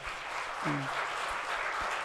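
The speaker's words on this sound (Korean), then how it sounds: "고생 많았다고 박수 치시고요" Brief burst of applause from a Sunday church congregation, dense clapping from a crowd filling the whole moment.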